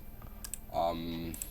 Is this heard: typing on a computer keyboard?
yes